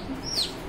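A young chicken chick, one of two trapped in a house, gives a single brief, high, downward-sliding peep against quiet indoor background.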